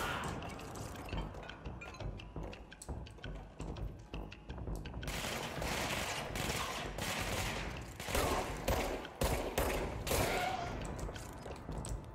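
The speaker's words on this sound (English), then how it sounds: "The other one that was shooting at me." Enemy gunfire in Control rattles in dense bursts of sharp shots, with sparser firing at first, then sustained rapid volleys and clinking debris.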